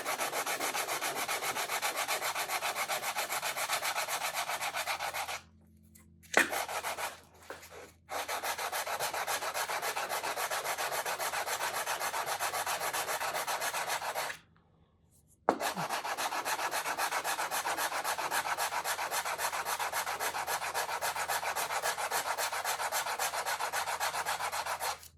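Close, continuous rhythmic sanding strokes on the wooden body of a steel string guitar, steady and even, broken by two short pauses with a few light knocks.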